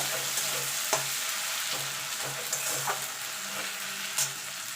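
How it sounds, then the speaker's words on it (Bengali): Ginger garlic paste frying in a pan for chicken kosha, a steady close sizzle broken by several scraping strokes of a spatula stirring the paste. "এবার একটুখানি আদা রসুনের কাঁচা গন্ধটা যাওয়া পর্যন্ত এটাকে একটুখানি কষিয়ে নেব।"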